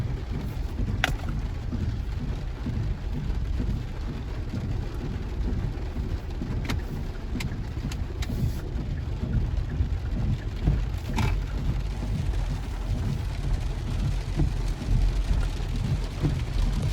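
Heavy rain falls steadily during a food delivery stop at an apartment complex, a dense continuous wash with a few sharp splashes and faint rumbles suggesting thunder, with no talk.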